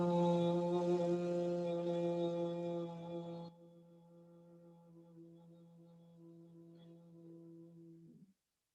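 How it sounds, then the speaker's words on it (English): A single voice makes a soft, steady, low humming breath for bumblebee-breath yoga practice, sustained for several seconds, quieting partway through before fading out. "It is simply humming."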